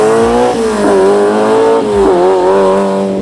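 A Ferrari 308 engine roars loudly and steadily for about three seconds, the pitch rising and dipping as the revs change, with no other sounds over it.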